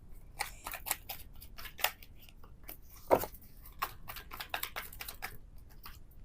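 Tarot cards riffled and snapped by hand in quick succession, a dense run of close, crisp paper flicks and slaps with one louder snap midway, no talking.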